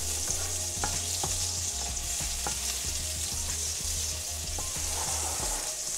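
Garlic and butter sizzle steadily in a frying pan for a butter garlic cucumber sauté, with regular light taps and scrapes of a utensil stirring through the hiss.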